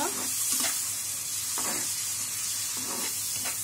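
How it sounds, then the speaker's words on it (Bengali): Steady sizzling of shrimp frying in hot oil, with a few brief bursts of louder crackle and stirring scrapes throughout. "চিংড়ি মাছটা তেলে"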